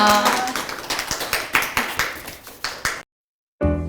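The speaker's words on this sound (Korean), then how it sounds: "오늘 강연을 위해서 고생해주신 심유설 강사님께 큰 박수 부탁드리겠습니다" A lecture audience gives a round of applause for the speaker, a handful of sharp, close claps in an uneven rhythm lasting about three seconds before a sudden cutoff into silence and then another sound.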